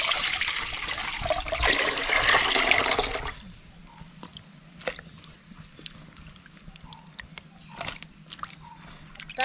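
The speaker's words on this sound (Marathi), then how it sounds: "पाणी ओतूया।" Water pours steadily into a pot of cut young jackfruit for about three seconds, close and fairly loud, then gives way to quieter clinks, taps and small handling noises.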